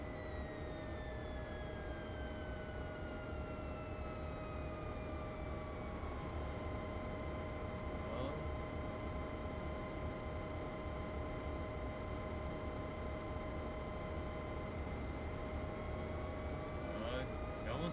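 Steady droning jet-plane tone from an NES game's landing sequence, with gliding pitch sweeps that fall slowly, constant and fairly loud throughout, with faint glitchy blips near the middle and end.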